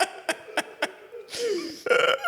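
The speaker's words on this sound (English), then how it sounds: "Gonna have spicy ginger burps for a little while" A person burps after eating spicy ginger, a drawn-out, gurgling belch in the middle of a few short clicks and puffs, ending in a burst of laughter-like sound.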